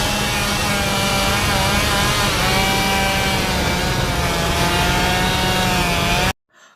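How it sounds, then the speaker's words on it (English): Chainsaw in a horror film scene from Evil Dead (2013), revving loudly and continuously with a buzzing, wavering engine drone that cuts off abruptly at the end. "the way she puts her stump on the chainsaw is a reference to Ash in Evil Dead 2"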